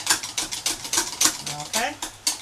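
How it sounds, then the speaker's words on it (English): A whisk beats a creamy sugar body scrub mixture in a bowl, making a quick run of scraping, clinking strokes at an even rhythm, close and fairly loud, with a voice speaking briefly between strokes. "the more I whisk it, the creamier it becomes"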